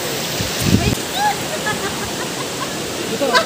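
Canding Falls waterfall roars as a steady broadband rush throughout, with people talking faintly over the continuous water noise.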